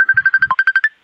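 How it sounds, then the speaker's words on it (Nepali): A phone rings with a fast series of about ten short, evenly spaced electronic beeps on a single tone, loud and clear, ending abruptly after one second with no talk. "कसरी नेपालमा नेपालीको फोन यसरी आउँछ है हामीले सुन्छ"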